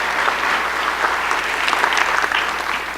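Dense, steady audience applause welcoming new deans at a university gathering, loud and sustained throughout with no talking over it.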